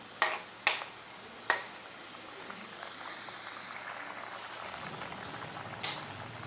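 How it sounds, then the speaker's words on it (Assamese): Water boils in a cooking pot of singara fish curry with fried singara fish, a soft, steady bubbling hiss broken by a few sharp clicks near the start and end. "পানীখিনি দি একেলগতে ভাজি ৰখা শিঙৰা মাছখিনিও দি দিব, দি ভালকৈ উতলিব দিব।"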